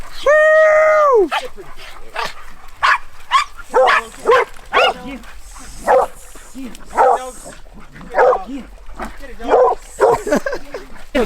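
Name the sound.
hunting dogs barking and whimpering during bear hunt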